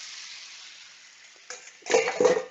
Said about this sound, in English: pour all the marinade juices into the pan